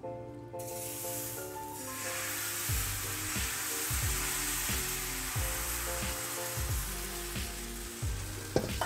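Sourdough crepe batter frying in pork and bacon fat gives a loud, close, continuous sizzle and hiss, over a background of repeating low tonal music.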